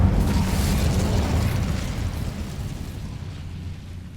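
An Incendio fire spell erupts in Hogwarts Legacy, a loud rumbling blast of fiery roar that starts at full strength and slowly fades over a few seconds, with no voices.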